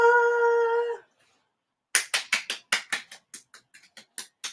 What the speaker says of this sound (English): Golf clap, golf clap, golf clap.